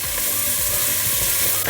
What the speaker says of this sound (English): Now I'm gonna add in my onions, ginger, garlic, and chilies. Oh, love that sizzle.